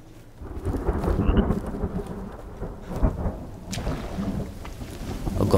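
Steady rain and rolling thunder in a forest in the video game The Forest, a loud continuous downpour with deep rumbling swells throughout and a sharper thunder crack midway.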